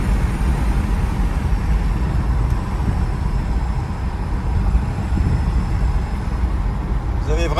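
A 2012 Chevrolet Camaro convertible with a V8 engine cruising, giving a steady low rumble and road roar from inside the cabin, moderately loud, with a voice talking over it.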